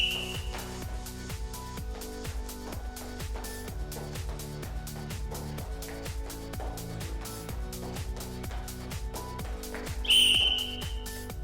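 A sharp, shrill whistle blast near the end marks the close of a timed workout test, cutting in loud and clear over steady, beat-driven background music.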